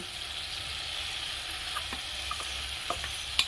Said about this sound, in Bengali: কিছুক্ষণ নেড়ে নেবো